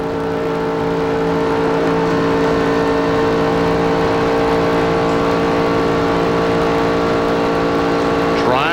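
Stock cars race at Daytona in the 1996 Goody's 300, a loud sustained engine drone with steady high whining tones that climb near the end, heard under a broadcast commentator's voice.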